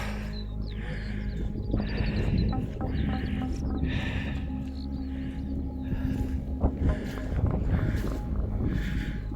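Strong wind on a Peak District hilltop buffets the microphone with a steady low roar and rumbling gusts that swell and ease throughout.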